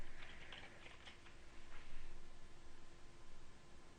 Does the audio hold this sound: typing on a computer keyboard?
yes